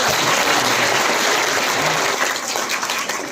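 Dense, continuous clapping from a group fills a short moment during a paper flower craft lesson, even and close with no voices.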